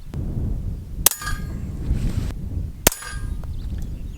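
Suppressed .22 pistol fired from a Trailblazer Lifecard with a threaded barrel and a SureFire Rider 22 silencer at a steel target: two sharp metallic clangs about two seconds apart, each a short ringing hit, over low background rumble.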